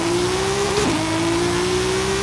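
Engine of a drag-tuned Nissan Skyline R34 with a fully built 1200-horsepower setup in Forza Horizon 5, holding a steady loud drone with a brief dip and recovery midway, no talk.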